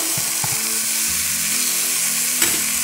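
Garlic mushrooms frying in a pan, a steady broadband sizzle with a few soft clicks and a brief sharper pop near the end, close and continuous with no talking.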